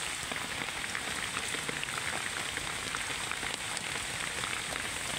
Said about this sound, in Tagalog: Maulan na talaga.